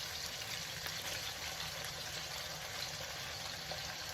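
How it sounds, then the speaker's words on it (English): Chicken taco filling fries in a skillet with a steady, even sizzle that holds at a moderate level throughout, with no talking over it. "we're gonna let it fry in the skillet"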